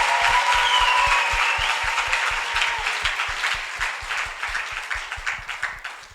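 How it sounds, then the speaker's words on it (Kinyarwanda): A church congregation claps together in a steady, regular rhythm while a voice rings out over the opening and then fades, leaving the beat of the hands to dominate. "Oh, amashyi menshi ku mwami Yesu."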